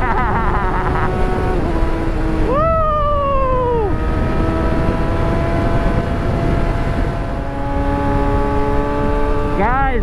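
A Suzuki B-King motorcycle launches hard with launch control, its engine note loud and close, rising and holding at high revs with pitch sweeps as it pulls away, then climbing again near the end.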